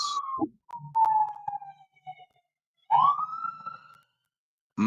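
A police car siren passes outside a residential neighborhood, its rising and falling wails coming in separated bursts with quiet gaps between them, heard from indoors at moderate distance.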